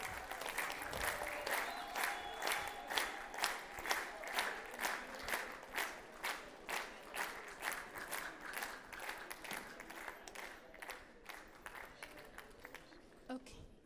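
Audience at a stage ceremony for a journalist in Virginia clapping in a steady rhythmic beat, a crowd in unison that holds for most of the stretch before fading, with faint talk underneath.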